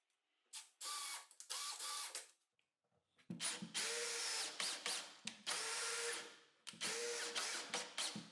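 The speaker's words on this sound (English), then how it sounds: "I drill all the necessary holes and screw the slides to the sides of the bench." A power drill drills holes in an OSB workbench in repeated bursts, starting and stopping several times with short pauses between, loud and close, its pitch dropping as it bites.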